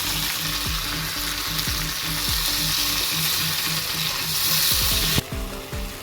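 Tomato pieces frying in a hot pan for a tomato yogurt chutney, a loud, continuous sizzle close up, with rhythmic scraping knocks of stirring and a sharp clatter near the end.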